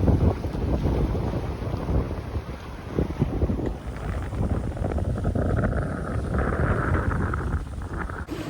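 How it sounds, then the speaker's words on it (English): Sailboat moving fast through gusty wind, with loud buffeting wind over the microphone and rushing water and waves along the hull, continuous and close throughout. "We're sailing really fast now"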